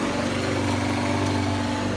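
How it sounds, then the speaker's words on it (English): A lawn mower engine runs steadily while mowing a yard, a constant mid-pitched droning hum at moderate distance with no break and no talking. "Joe's over there mowing and Troy's about to weed eat."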